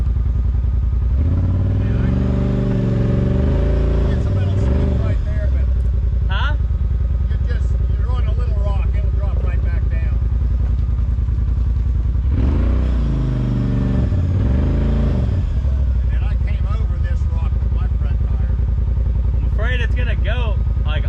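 UTV engine working over rocky off-road trail terrain at an off-road park in Missouri, with repeated rising revs and a steady mid-pitched drone, people talking over it throughout.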